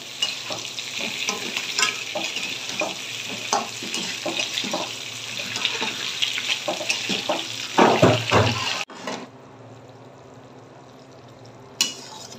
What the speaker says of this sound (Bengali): এখন এটার মধ্যে আমি মশলাটা অ্যাড করে দিই।